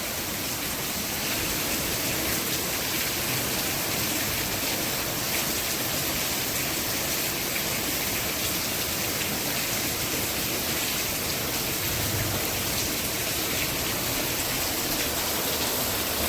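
Rain falling on a farm: a dense, steady wash of noise that holds without a break for the whole stretch, with no voices.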